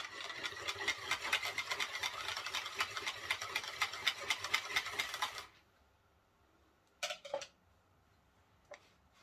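A homemade yogurt mixture is stirred in a container with quick, rhythmic scraping strokes for several seconds. The stirring then stops, leaving near silence with a few faint clinks.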